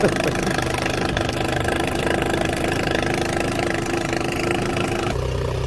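A small outboard engine with automatic choke idles loudly and steadily, a constant throbbing rumble close by, that changes pitch near the end.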